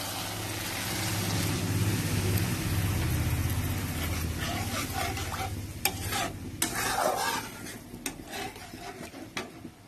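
Ground mustard sizzles in a pan as oil and then water go in for a pomfret mustard curry. A loud, steady hiss gives way to sharp spits, utensil clatter and fading sizzle.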